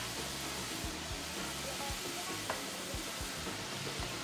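Chopped indigo milk cap mushrooms tipped into a pan of sizzling onions and garlic give a dense, steady frying hiss with low thumps and stirring knocks, loud and close, with no talk.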